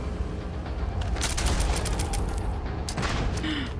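Rifle gunfire in the Space Scoundrel video game: a dense, sustained burst of rapid shots over a noisy battle background, close and loud throughout.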